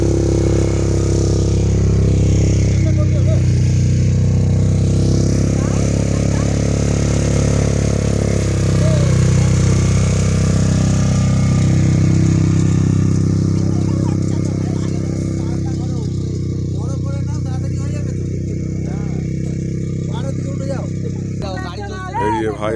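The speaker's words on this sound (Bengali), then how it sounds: "भाईरा सब बाइक चढ़ছে" Motorcycles run with their engines going as riders mount up near Kalimpong's Deolo area. A loud, continuous low engine rumble holds throughout with slight revving, and voices talk over it.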